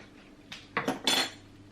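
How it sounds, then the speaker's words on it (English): A spoon scraping and clinking against a bowl while a mixture is spooned onto noodles, three or four soft close scrapes in quick succession over a quiet kitchen background. "I'm gonna spoon on the mixture"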